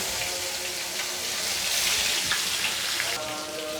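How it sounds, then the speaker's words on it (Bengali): Koi fish sizzling in hot oil in a pan, a steady loud crackling hiss throughout with a brief shift in texture near the end. "জাস্ট এপিট ওপিট একটু ভেজে নেব"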